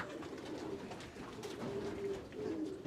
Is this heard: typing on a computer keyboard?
no